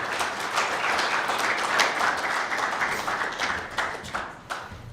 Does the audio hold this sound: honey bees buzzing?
no